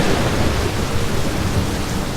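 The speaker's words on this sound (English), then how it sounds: "We have very heavy rain falling in southeast Texas" Heavy rain pours steadily during a storm in southeast Texas, a dense, loud, unbroken hiss with no talking.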